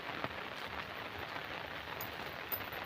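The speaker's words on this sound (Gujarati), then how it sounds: "આ વરસાદનો અવાજ આવે છે," Rain with hail falls steadily in a village, a continuous soft patter with a few sharper taps, faint and even throughout, with no voices.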